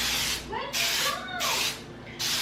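Baking spray hisses from a can into an aluminum pan in three separate bursts, each under a second long, with a voice speaking softly between them.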